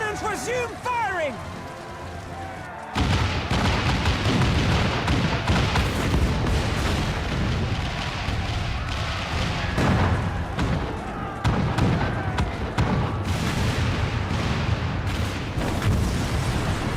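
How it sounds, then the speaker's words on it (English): Cannon fire in a Final Fantasy 14 battle scene, a dense run of loud booms and blasts rolling over one another for most of the stretch, after a quieter opening with a voice. "All cannons resume firing!"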